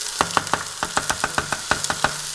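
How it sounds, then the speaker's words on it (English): Beef for chili hitting a hot pan, giving a steady series of sharp sizzling crackles and pops in a quick, fairly even rhythm, close and moderately loud, with no talking. "A little bit of good sizzle."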